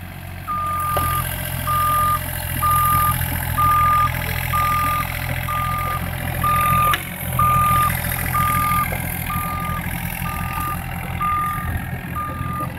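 Truck reversing alarm beeping steadily in an even rhythm about twice a second over a low idling diesel engine rumble on a work site, loud and continuous throughout.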